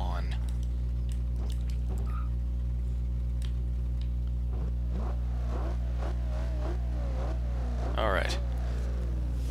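Engine of a Foxbody Mustang drag build in Forza Horizon 2, revving and accelerating with wheel spin, a steady droning hum running throughout beneath someone talking.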